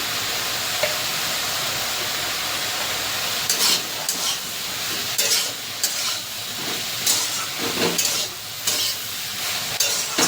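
Eggplant frying in a pan with turmeric and chili powder, a steady close sizzle broken by short bursts of stirring scrapes near the middle and end, with no voices.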